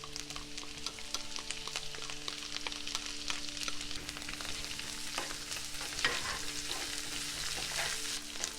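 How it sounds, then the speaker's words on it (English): Chopped mint and cilantro leaves sautéing in a pan for jeera rice, giving a steady, close, quiet sizzle with faint stirring scrapes and a low background hum. "And saute for a minute, and after that add the chopped mint and cilantro leaves."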